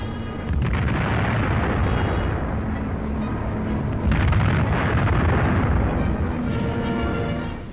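Bombs burst among US tanks on a WWII North African battlefield near Tebourba, heard as a rapid series of heavy, rumbling explosions, loud and continuous, with stronger blasts around the middle and no voice over them.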